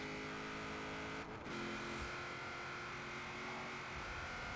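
A rallycross car with a Hemi V8 and no turbo, straining at high revs, steady droning engine note at moderate distance with a brief dip in the middle and no talking.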